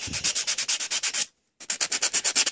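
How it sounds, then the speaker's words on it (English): An acrylic nail is buffed with a fine-grit buffer block in quick, even back-and-forth strokes, close and crisp. A short pause breaks the strokes before they resume at the same steady rhythm. "You want to take a, you can use a buffer, or like I like to use these type of blocks"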